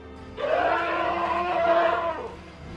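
A single loud, drawn-out wailing scream from an elephant, low in tone, lasting nearly two seconds and then cutting off, during a fight with a hippo.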